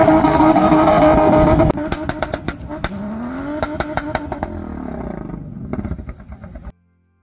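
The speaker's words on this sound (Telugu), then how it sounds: "మరొక కారు వచ్చింది, మరొక కారు." A 4x4 car's engine roars loudly on an off-road race track in Qatar, revving hard and dropping, with sharp clattering bursts and a second engine pitch sweeping past before the sound cuts off.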